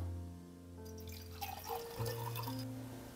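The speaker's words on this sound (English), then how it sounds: "I'll take the water from here, putting it in the cup." Water for coffee, 20 grams of ground beans ready, is poured into a cup with a steady liquid splash and trickle under background music, no talk.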